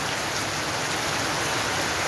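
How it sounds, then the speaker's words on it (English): Steady rain falling on a street square in Jamaica, a dense, even wash of drops pattering on surfaces close by, continuous and fairly loud with no voices over it. "The rain has fall, my people."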